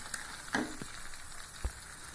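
Halwa being stirred in a pan of ghee until the fat separates: a soft continuous sizzle with a couple of brief spoon scrapes against the pan, close and fairly quiet.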